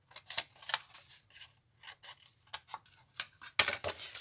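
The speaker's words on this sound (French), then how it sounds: "Je viens couper mes angles." Scissors snip off the folded corners of paper while a Christmas mini album is made, giving a close series of short, crisp cuts and rasps with brief pauses between them.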